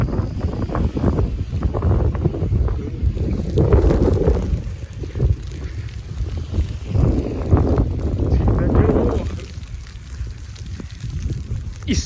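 Strong wind gusting during a New York snowstorm, a loud, rough rumble buffeting the microphone in surges that swell and ease throughout, with a person briefly speaking over it.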